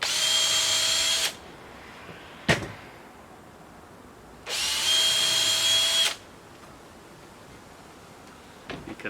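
A power drill pre-drilling wood whines in two bursts of about a second or two each, separated by quiet, with a sharp knock between them and light clicks at the end.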